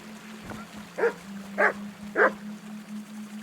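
A dog in the video game Kingdom Come: Deliverance II gives three evenly spaced barks at moderate distance over a low steady background hum.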